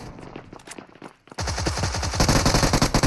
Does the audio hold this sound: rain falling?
no